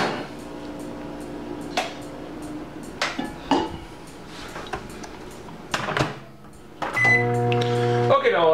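A microwave oven heats hard dark chocolate topping after clattering dishes and a door are handled, its steady hum starting near the end, with a person talking throughout.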